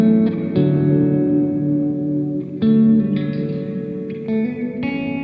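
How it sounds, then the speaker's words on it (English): Guitar notes ring out through a Pigtronix Cosmosis pedal set for smooth reverb, each plucked chord blooming and trailing into a long, even wash of decay, played alone without voices. "Just super smooth reverb."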